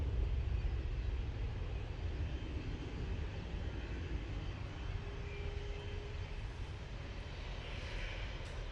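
A Ryanair airliner arrives at Manchester Airport, heard as a faint, steady jet rumble and hiss that lasts throughout with a low engine drone. No voices are heard.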